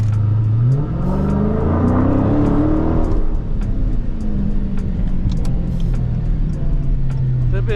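A Dodge SRT Scat Pack car accelerates hard, heard from inside, its engine note climbing loudly through a gear before settling into a steady roar with road rumble, with faint voices underneath.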